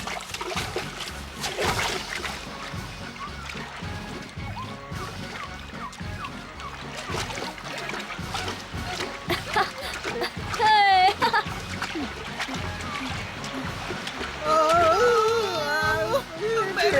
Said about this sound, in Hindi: पानी में कूदो और तैरकर दूसरी तरफ जाओ